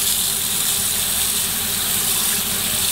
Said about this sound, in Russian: Вот вода такая с шипением идет, даже немножко зеленоватая, наш раствор проливается.